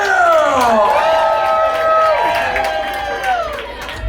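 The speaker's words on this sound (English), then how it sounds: "Let's have a round of applause for you!" Comedy club crowd at the DNA Lounge in San Francisco cheering and clapping together, a dense, sustained wash of applause with whoops and voices rising over it throughout.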